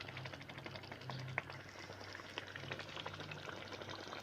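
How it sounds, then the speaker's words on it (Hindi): Chicken with mustard greens (sarson ka saag) sizzles softly and steadily in a pan, a faint continuous frying hiss with a couple of small pops. "और इसे हम अच्छे से भून लेते हैं साथ साथ।"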